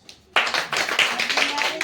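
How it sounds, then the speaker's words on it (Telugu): Applause breaks out at a wedding anniversary celebration, a dense burst of many hands clapping that starts abruptly after a brief quiet moment and carries on steadily, close and fairly loud. "క్లాప్స్"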